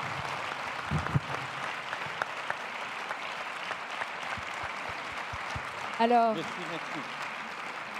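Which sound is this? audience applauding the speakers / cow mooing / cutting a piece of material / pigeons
audience applauding the speakers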